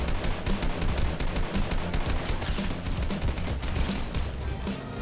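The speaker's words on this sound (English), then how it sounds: "Okay, that gunshot's very close." Gunfire in the Fortnite video game played on a Nintendo Switch sounds as loud, dense, rapid shots repeating without pause for the whole stretch, with no talking.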